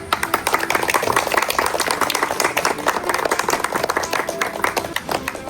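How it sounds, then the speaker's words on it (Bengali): Children clap together loudly and steadily through a school Independence Day ceremony, the claps dense and continuous from start to finish with no talk on top. "সবাই হাততালি দাও।"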